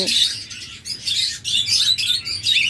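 A pair of red-eyed lutino Fischer's lovebirds chirps in quick, shrill bursts, close and loud, the calls overlapping steadily with background bird chatter.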